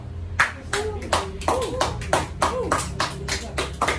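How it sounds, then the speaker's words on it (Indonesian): Classroom students applauding together, a rhythmic burst of clapping with sharp, evenly spaced claps, close and loud, with a voice faintly mixed in. "Kita berikan aplaus dulu"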